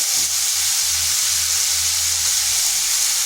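Potatoes go into a pan where yardlong beans are already frying, and a loud, constant sizzle fills the whole stretch up close.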